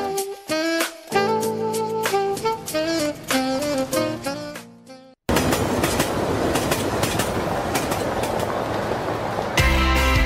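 A train runs on the railway in a Lithuanian Railways advert: a melodic music passage gives way to a loud, steady rumble of rolling wagons, with a brief music sting at the end.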